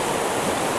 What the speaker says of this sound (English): So now after this, we're going to put some water.